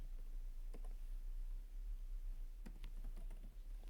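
Typing on a computer keyboard while coding, a few scattered soft key clicks at first and then a short cluster of taps, quiet and close with no talking.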